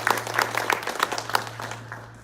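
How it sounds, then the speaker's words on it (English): Audience applause at a morning religious talk, steady clapping from a room of guests over about two seconds with a low hum beneath, tapering off toward the end. "Give yourself a round of applause."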